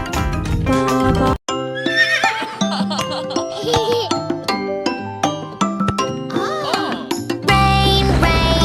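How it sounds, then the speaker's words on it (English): A horse neighing sound within a children's nursery rhyme song, the whinnies sitting over busy sung music and instruments, with giggling and a brief pause partway through. "Neigh, neigh, the horses say."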